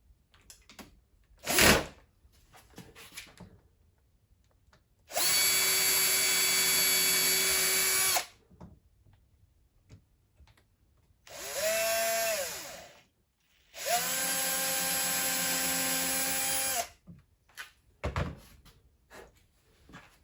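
A power drill runs in three bursts of a few seconds each while a final shelf is installed, with rising and falling motor whine, separated by quiet gaps and a couple of sharp knocks.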